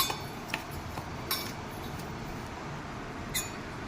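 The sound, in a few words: spoon mixing bhindi masala in a pan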